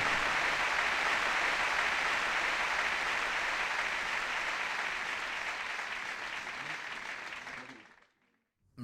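Arena crowd at a World Snooker Championship 2004 video game match applauds in a loud, dense wash for about eight seconds before cutting off abruptly into silence.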